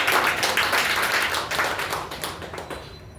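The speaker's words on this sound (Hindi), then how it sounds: "हम यीशु के जोरदार ताली" A church congregation claps loudly, brisk rhythmic hand-clapping from many people that starts strong and slowly fades, with no talk over it.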